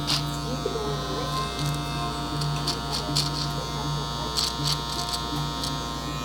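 An electric beard trimmer buzzes steadily at close range as a barber cleans the beard line off a man's lips, a constant motor hum with small scraping flickers as the blades move.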